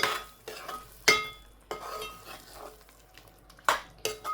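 Utensils scrape and clink against a pot of fish curry in several sharp strikes, with softer stirring sounds between them and no talking.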